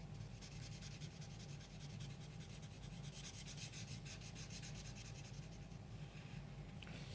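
A Pro Marker felt tip rubs a fresh layer of ink over a dried coat, a soft continuous scratchy scrubbing, quiet and close with no talk.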